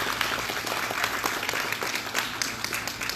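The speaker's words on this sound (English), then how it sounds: "I'd like to give them a round of applause, please." Steady applause from a crowd, dense and even clapping that fills the whole moment without letting up.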